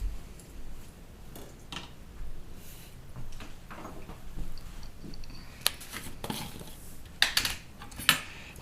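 A holed metal spoon scrapes and taps while spreading brisket rub over a thick brisket, giving soft irregular scraping with a few sharper metallic clinks near the end, close and moderately quiet.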